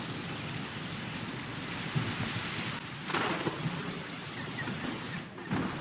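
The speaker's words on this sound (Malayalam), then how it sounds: "ഈ ഇടിയുടെ സൗണ്ട്, മൊത്തത്തിലുള്ള ആംബിയൻസ്, ഹെഡ്സെറ്റ് വെച്ച് കളിക്കുമ്പോൾ ഒരു രക്ഷയില്ല" Thunder rumbles over steady rain in the game Clawed, a dense, even downpour with several low rolling thunder swells, heard alone with no voices.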